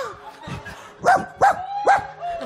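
A person imitates a dog, giving three or four short barks in a steady rhythm, close and fairly loud, with brief voiced sounds between them.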